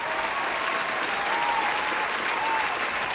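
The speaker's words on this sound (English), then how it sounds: "You may clap briefly." Brief, steady applause: a short burst of dense, even clapping that lasts about three seconds.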